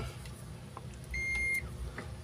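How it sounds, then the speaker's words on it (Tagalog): Multimeter tester set to buzzer mode giving a single short steady beep of about half a second, clear and close over a quiet room hum. "Lagyan natin sa buzzer mode."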